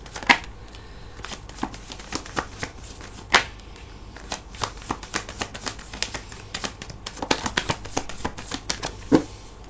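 A tarot deck is shuffled by hand in a quiet room: a long run of crisp, close riffling clicks and flutters, uneven in rhythm, with a few sharper snaps standing out.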